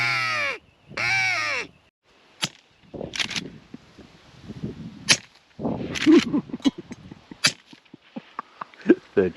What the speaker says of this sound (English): I've got my crow call.